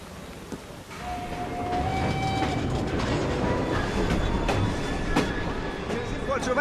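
Train arriving in the video game Assassin's Creed Syndicate, a loud rolling rail rumble with clattering wheels and a brief high brake squeal early on, building and holding steady, with voices talking over it.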